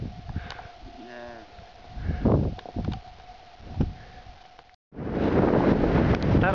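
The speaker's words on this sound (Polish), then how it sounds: "niestety wieje wiatr" Wind on the winter summit of Starorobociański Wierch (2176 m) buffets the microphone with rough gusts under brief talking, then a loud, steady roar of wind takes over at the end.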